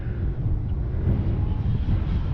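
A Durafly Tundra V3 RC plane on a 4S battery, flying at full speed in a dive with the wind, gives a steady, loud, continuous electric motor and propeller roar mixed with wind rush, with no talk.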